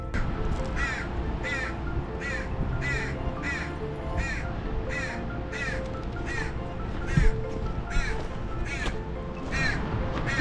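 A young crow caws repeatedly from up in a tree near a roadside, its regular harsh calls steady and fairly close above low outdoor background noise.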